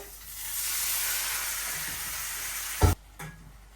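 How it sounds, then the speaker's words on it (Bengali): Spiced masala being fried down in a pan with a splash of water, a steady hiss and sizzle rising then easing, followed by a sharp utensil knock and a fainter clink. "এই জলটুক দিয়ে দিই মশলাটা একটু কষানো হবে"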